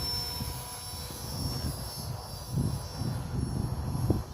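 A small electric RC helicopter flies in idle-up mode, a fairly close, steady rotor whine and buzzing hum that swells and fades slightly as it moves around, with no talking.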